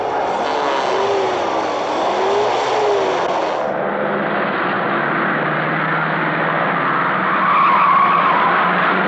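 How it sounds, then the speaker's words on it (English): A fast car skids and revs in 1960 footage, with a loud sustained screech of tyres and a whining engine that shifts pitch partway through, continuing strongly throughout with no talk. "A few people still enjoy the performance of a fast car."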